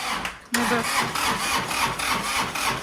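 A tractor engine cranks and catches, settling into a loud, rhythmic chugging idle close by, with voices faintly present.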